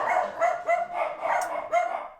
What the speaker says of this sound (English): hopefully without the distraction of barking dogs